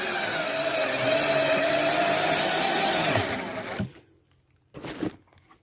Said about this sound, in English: screwing screws